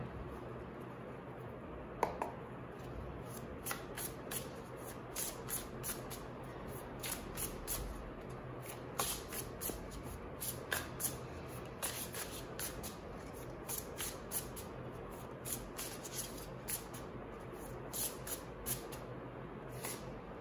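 Tarot cards being shuffled by hand, a steady run of soft papery riffles and light taps repeating close by and quietly for about twenty seconds, with no talking.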